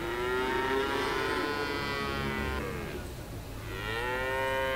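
Cattle mooing, long drawn-out lowing calls, two extended moos with a short dip between, fairly close over a steady background hum.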